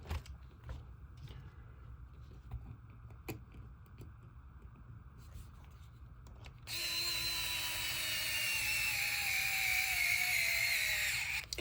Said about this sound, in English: I use a drill as well, just to speed up the process